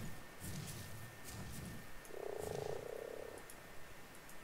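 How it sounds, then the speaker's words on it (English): A purple and blue frog in ARK Survival Evolved croaks in a loud, close, buzzing burst lasting about a second, amid soft game ambience and faint earlier croaks. "This frog is like purple and blue."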